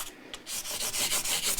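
An Epiphone ES339 guitar neck is sanded by hand with 80-grit sandpaper, giving a close, steady series of rhythmic rasping strokes, about eight in quick succession.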